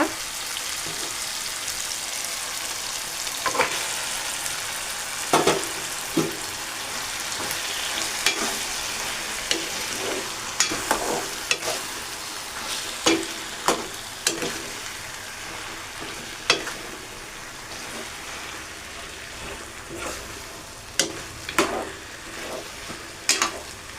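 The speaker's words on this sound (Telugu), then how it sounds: "ఓకే అండి ఇప్పుడైతే నేను అది వేసేసుకుంటున్నా కూర" Curry added to a hot pan and frying, a steady close sizzle with scattered sharp pops and crackles throughout, alone with no talk.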